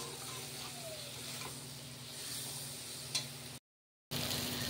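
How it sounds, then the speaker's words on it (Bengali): A fish head frying with chili powder, ginger-garlic paste, turmeric and tomato in a pan, a quiet steady sizzle with faint stirring and a sharp tick near the end, then a short gap of silence before the sizzle resumes. "আর এই মশলাটা ভালো মতন কষিয়ে মুড়োটা কষিয়ে নেবো"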